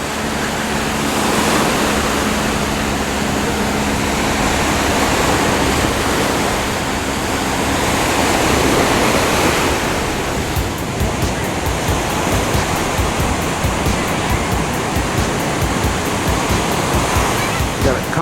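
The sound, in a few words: ocean waves at Newport Beach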